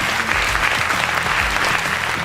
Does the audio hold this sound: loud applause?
yes